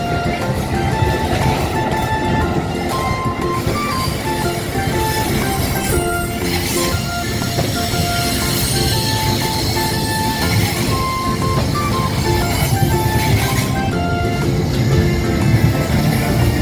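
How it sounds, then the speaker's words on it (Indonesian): A train rolls past a level crossing in a steady, dense rumble of wheels and carriages lasting throughout, fairly close, with no talk. "Kereta menuju ke stasiun"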